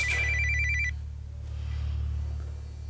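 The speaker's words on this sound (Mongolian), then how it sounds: "Эрхэм цагдаагийн утас орж байна." A telephone rings in a short-film scene: one bright, rapid electronic ring burst lasting under a second, then only a steady low hum remains.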